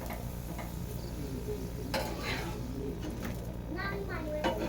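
Cauliflower paratha frying in white oil in a pan gives a steady, close sizzle throughout, with people talking over it.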